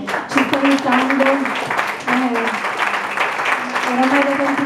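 Audience applause at an Italian public talk on Ukraine and other wars, a steady broad clapping wash sustained throughout while a voice carries over it.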